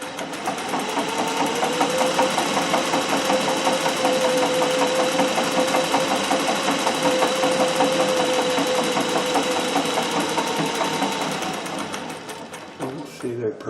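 Singer 411G treadle sewing machine stitching a multi-point zigzag, with a fast, steady mechanical clatter and rhythmic pulsing close up that runs for most of the clip before slowing and stopping near the end.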